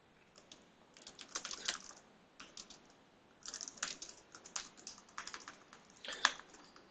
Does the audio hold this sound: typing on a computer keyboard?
yes